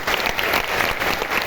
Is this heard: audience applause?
yes